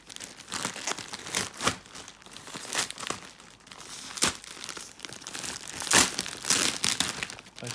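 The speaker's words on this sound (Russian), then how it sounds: "Раскрываем такой пакет классный." Close, continuous crinkling and crackling of a plastic packaging bag as an Incase Reflective Mesh laptop sleeve is unwrapped, with several sharper rustles and crunches standing out among the steady handling noise.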